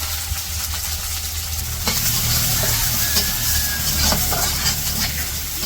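Onion and green chili frying in oil in a wok in a Bangladeshi village kitchen, a loud continuous sizzle with scraping stirs and a low rumbling hum underneath, close by.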